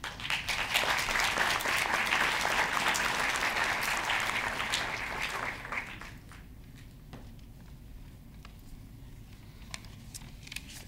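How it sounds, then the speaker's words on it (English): Warm applause from a full lecture audience fills the hall for about six seconds, then fades into scattered claps and quiet room noise. "we would like to have a warm round of applause for Michael"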